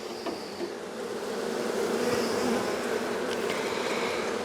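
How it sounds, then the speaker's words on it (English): Dense, steady buzzing of many honeybees in an open hive during a frame inspection, a close, continuous drone that swells slightly partway through and carries no talk. "A lot of bees in here."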